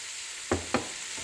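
Quiet, constant hiss of chopped garlic sizzling in a pan, with two brief clatters close together as it is stirred.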